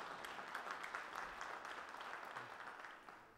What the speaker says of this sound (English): round of applause for Merle Beck.